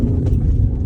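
A 2012 Mercedes-Benz C250 W204 with a 2.2-litre diesel engine in sport mode gives a low, steady rumble heard from inside with the window closed, brief and muffled.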